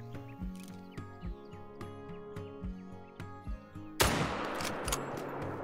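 A single loud rifle shot cracks out during a deer hunt on the Mississippi River in the Call of the Wild hunting game, bursting over steady rhythmic background music and ringing on briefly afterward.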